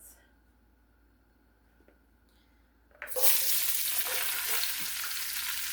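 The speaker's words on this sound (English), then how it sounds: "And now we're going to add in our onions." Onions dropped into hot oil in a skillet, silent at first, then bursting into loud, steady close sizzling that continues to the end.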